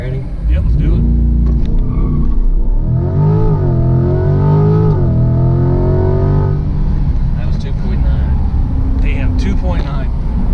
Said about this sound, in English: We're going to launch in race mode.